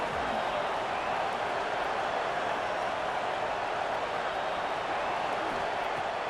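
Roaring stadium crowd in a college football video game, a steady dense wash of cheering that holds loud and unbroken throughout with no clear pauses.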